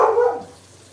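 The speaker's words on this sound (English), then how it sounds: "He's barking." A single short dog bark, close and sharp, fading quickly into quiet.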